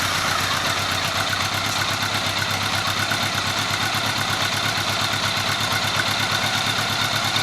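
A 1983 Honda Gold Wing motorcycle engine idles steadily and close by after a hard start, with an even, continuous rumble throughout and no talking.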